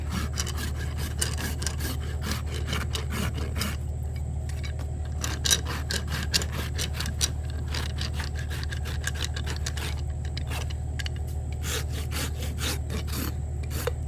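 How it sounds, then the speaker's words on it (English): A rasp files the hoof of a foundered donkey in steady, rhythmic back-and-forth strokes, dozens of rough scraping pulses over a low constant hum, close and clear with no talking. "And then I'm going to take my rasp"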